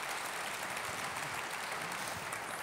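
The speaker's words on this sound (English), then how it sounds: "could you please give them a huge round of applause of welcome?" Audience applause welcomes panel guests at a media industry festival, a steady, dense wash of clapping filling the room for a few seconds without talk.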